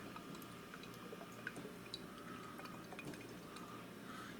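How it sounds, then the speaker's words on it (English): Worcestershire sauce dribbles slowly from its bottle while a teaspoon is measured for a keto meatloaf, giving faint, soft liquid drips and trickles close by with no talking. "Comes out really slow. Come on, Worcestershire."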